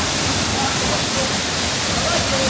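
Salto do Cabrito waterfall in the Azores, near the town of Furnas, gives off a steady, loud, unbroken roar of falling water that fills the whole scene.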